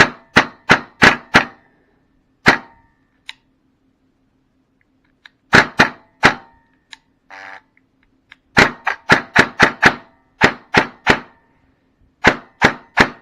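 Sharp snapping gunshots from an airsoft gun, fired in quick bursts of several close shots, sometimes double-firing, with brief pauses between groups; loud and near.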